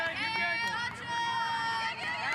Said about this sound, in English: A couple of cries from the crowd at that one.